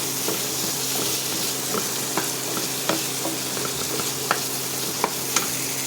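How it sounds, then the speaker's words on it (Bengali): Spice paste sautés in a pan with a constant bright sizzle, sprinkled with small taps and scrapes of a spatula at irregular intervals, up close and without voices. "মশলাটা কষিয়ে এসছে।"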